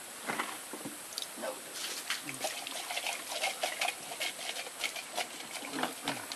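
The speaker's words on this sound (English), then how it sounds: "Can I water the plant?" Water splashes and patters onto a plant beside a pool in soft, irregular bursts, a faint trickling and dribbling sound without talk.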